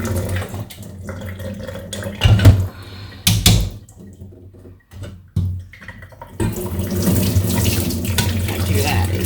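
Yam being washed in hot, salted water under a running kitchen tap to remove sand, with steady splashing and gushing flow, interrupted by a few louder sloshes and brief pauses before the stream settles into continuous running water.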